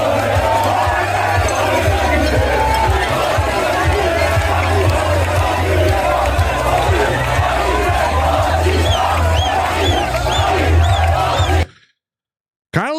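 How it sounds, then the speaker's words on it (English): A rowdy crowd of protesters celebrates at night in Paris, a dense, continuous roar of cheering and shouting voices close by, steady and loud for about eleven seconds before cutting off abruptly. "when the sun went down, the crowd just kept getting rowdier"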